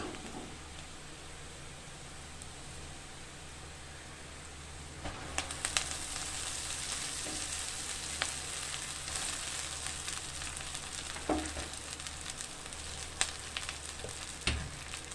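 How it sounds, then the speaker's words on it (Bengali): Moringa leaves dropped into a pan of fried onions and chilies set off a louder, denser sizzle that hisses steadily, with a few scraping stirs and no voices. "পেঁয়াজ মরিচগুলো আমার বেশ ভাজা হয়ে গেছে এবার আমি শাক দিয়ে দেবো"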